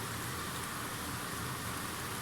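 Heavy rain pours down outside, a steady, dense wash of noise that holds evenly throughout with no voices.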